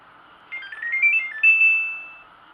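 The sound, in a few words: air conditioner circuit board beeping when powered on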